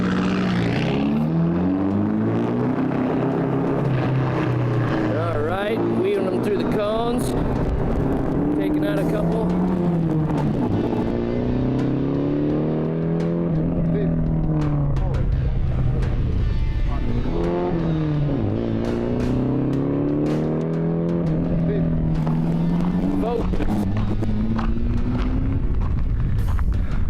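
A turbocharged drift car's engine revs loudly and continuously, its pitch swooping up and down in repeated surges as the car slides, with no break in the roar.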